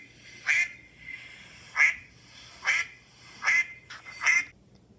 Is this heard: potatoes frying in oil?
no